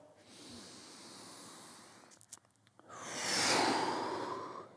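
Slow, audible breaths during a gentle mobility exercise: a long airy inhale, a brief pause with small clicks, then a fuller, louder exhale that fades away, close and without talking.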